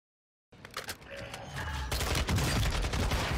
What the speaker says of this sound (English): Guy shooting through the wall.